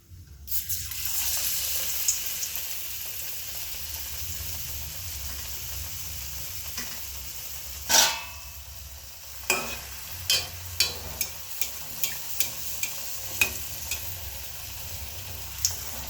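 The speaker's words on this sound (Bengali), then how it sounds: "বেগুনিগুলোকে ভেজে নিচ্ছি।" Eggplant fritters dipped in gram flour batter fry in hot oil in a wok. A continuous soft sizzle runs throughout, broken by a string of sharp clinks and scrapes from stirring in the second half, with no voices.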